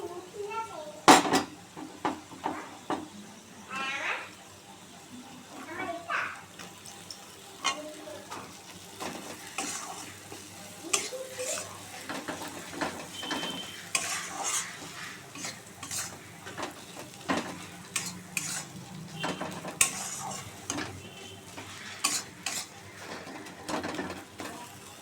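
Dried fish paste frying in a pan, with spoon stirring and scraping against the metal over a soft sizzle, while birds chirp in the background throughout.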